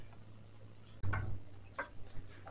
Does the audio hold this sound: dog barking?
no